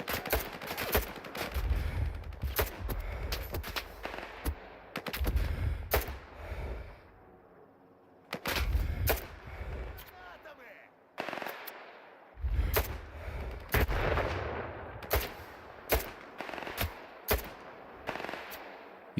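Enemy gunfire in S.T.A.L.K.E.R. 2: loud, sharp shots and rapid bursts crack out in irregular clusters with brief quiet gaps between volleys, close and harsh.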